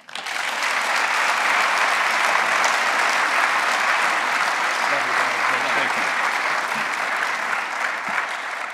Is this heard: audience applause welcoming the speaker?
yes